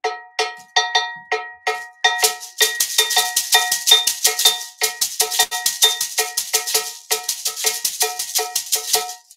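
Gankogui double bell played alone in a repeating Ewe timeline pattern, bright metallic strokes in a steady looping rhythm, close and clear with no talking.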